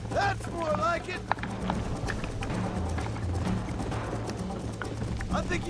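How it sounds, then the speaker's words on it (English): Horse hooves pound at a gallop in Red Dead Redemption, a steady rapid drumming under continuous game music and voices talking throughout. "I think you chose the wrong horse, Miss McFarland."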